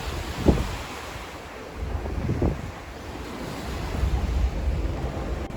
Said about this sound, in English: The reason there's these rapids and these whirlpools in this area is because the two different tides under the sea are clashing together at this point.